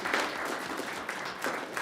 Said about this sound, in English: let's give our artists a round of